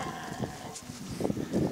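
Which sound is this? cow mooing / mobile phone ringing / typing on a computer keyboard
cow mooing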